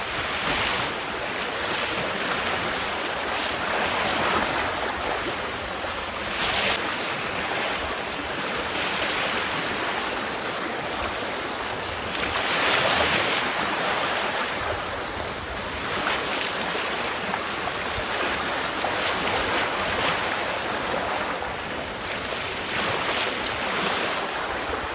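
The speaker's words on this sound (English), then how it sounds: "You get a bit of a tide race over the top." Tidal water rushes over a shallow underwater rise beside a small trailer sailer, a continuous churning roar of surf-like turbulence mixed with gusting wind buffeting the microphone, steady and close throughout.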